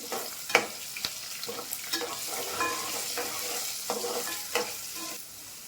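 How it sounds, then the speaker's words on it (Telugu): Mustard seeds, cumin, chana dal, garlic cloves and dried red chillies frying in hot oil for a gongura pickle tempering, a steady close sizzle with seeds popping and a spoon stirring and scraping the pan at intervals. "ఆవాలు, పచ్చెనగపప్పు, కొన్ని వెల్లుల్లి రెమ్మలు, కొద్దిగా ఎండుమిరపకాయలు ఇవి వేయించుకోవాలి"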